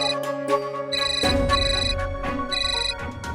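A telephone rings inside a family home, its bright electronic ringtone repeating in a steady, loud pattern with no one speaking over it.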